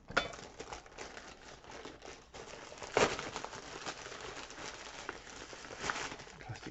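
Plastic bag crinkling and rustling as it is opened by hand, with irregular close crackles and a sharper crunch near the middle, quiet overall.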